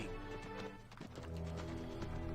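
Horses being herded in the strategy game Empire Earth give off soft clip-clopping hooves and a faint whinny, quiet and brief, set against a low steady in-game music bed.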